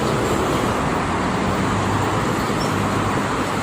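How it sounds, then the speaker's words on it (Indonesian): Steady, dense roar of passing buses, private cars and tour coaches on the Jakarta–Cikampek toll road on a busy weekend morning, a continuous close wash of tyre and engine noise with no pauses. "Ini didominasi oleh kendaraan-kendaraan bus, mobil pribadi maupun pariwisata ya"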